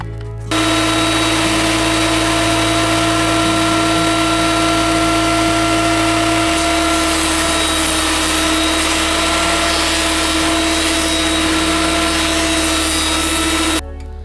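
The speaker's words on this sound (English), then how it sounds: "my jointer." A jointer planes the edges of wooden planks for rustic furniture, its motor running loud and steady with a continuous whine that shifts pitch about halfway through, then cuts off near the end.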